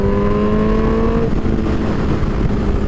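A Suzuki GSXR1000 liter bike engine drones loud and close at a steady pitch, then the tone changes and gives way to a rougher, broadband roar as the motorcycle keeps moving on the street.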